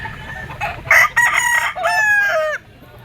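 Jogood Gray gamecocks, 18-month-old bull stags at a game farm, crow loudly and close by, one drawn-out cock-a-doodle-doo with overlapping clucks and calls from nearby birds.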